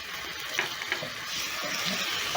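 A soy sauce mixture hits seasoned chicken frying in a pan, giving a steady bright sizzle with a few small pops throughout, close and moderately loud, with no voices.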